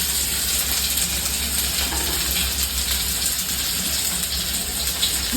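Onion tossed into a hot pan on a home gas stove sizzles loudly and steadily, a dense, even frying hiss that fills the whole stretch without any talk.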